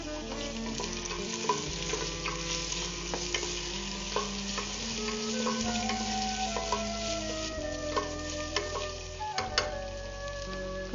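Onions and raw mango sauté in a pan for a mustard mango chicken dish, a continuous sizzle with frequent stirring scrapes and knocks of the spoon against the pan, no talking.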